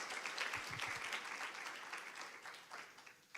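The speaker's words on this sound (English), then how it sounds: "Let's give all of our award winners another round of applause" An audience at a student recognition ceremony applauds its award winners, a faint, even roar of many hands that stays steady throughout and fades slightly toward the end.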